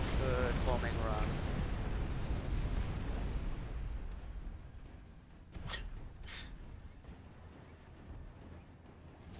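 Bombing run in the Supreme Commander: Forged Alliance video game: heavy, rumbling explosions roll together at first and fade, followed by a few sharper, distant bursts, with voices present.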